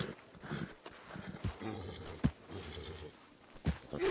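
A horse shifts and stamps nearby, with a few sharp hoof knocks and soft snorting or breathing over a quiet, rustling background.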